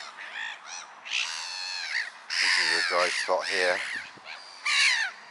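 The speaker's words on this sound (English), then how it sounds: "So the black-headed gulls are all getting excited." Black-headed gulls call excitedly in a loud, overlapping chorus of harsh squawks and cries, with someone talking close by over the flock at times.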